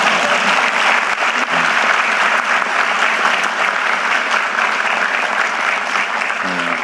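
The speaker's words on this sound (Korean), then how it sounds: "박수도 한번 안 치시나요?" An audience applauds at a political event in Jeju, dense sustained clapping that stays loud and steady throughout, with no voices over it.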